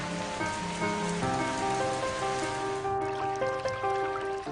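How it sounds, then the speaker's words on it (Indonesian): Rainy-season rain in Bali falls in a steady, dense hiss that holds throughout, with sustained tonal sounds running underneath. "Musim hujan tiba, bencana banjir bisa mengancam jika kita tidak waspada."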